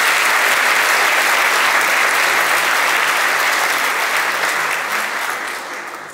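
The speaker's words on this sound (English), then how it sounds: "Let's give her a round of applause." An audience at a school prize-giving gives a loud, steady round of applause for an absent prize winner. The clapping stays even and then starts to fade near the end.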